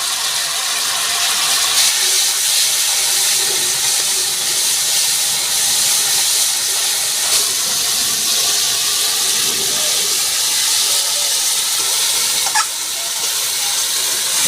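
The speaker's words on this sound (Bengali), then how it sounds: "দেখুন মশলাটা আমার কষানো হয়ে গেছে" Spice masala of turmeric, salt and dry red chilli powder frying in a pan for a small bata fish dish with panch phoron: a loud, continuous close sizzle and hiss with no pauses and no talk.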